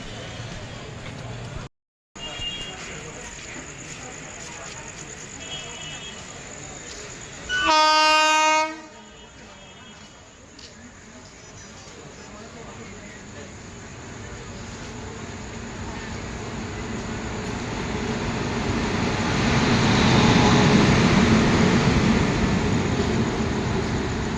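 Train pulling into Madhyamgram station: one loud horn blast of about a second cuts through platform ambience, then a steadily rising rumble and rail noise as the train draws near.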